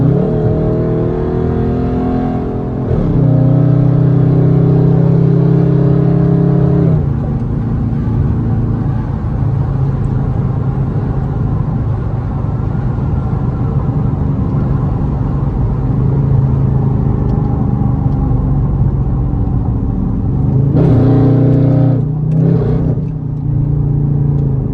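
A Dodge Charger SRT8 speeds down the highway at over 100 mph, its engine holding a deep, loud rumble with rises in revs near the start and again toward the end, under constant road and wind noise.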